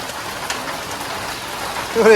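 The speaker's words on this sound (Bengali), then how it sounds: "আজকে বৃষ্টি থামতেছে না, যে বৃষ্টি আবার বাড়ছে" Heavy rain falls on a flooded village yard, a steady close hiss with a few louder spatters and a brief rise at the end.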